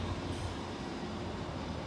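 A passenger train pulls in at Cardiff Queen Street station, a steady broadband rumble of wheels and carriage noise holding close and loud throughout with no talk.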